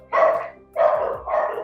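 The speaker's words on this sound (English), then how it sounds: "that's my dog, sorry." A dog close by gives three loud barks in an even rhythm, with short gaps between them.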